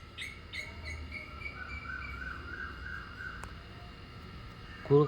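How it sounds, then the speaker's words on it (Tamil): Scattered crow and sparrow chirps and calls in Minecraft ring out against a quiet background hum, with a few brief tweets early and a steady thin call running through. "காக்கா குருவியெல்லாம் கத்துது."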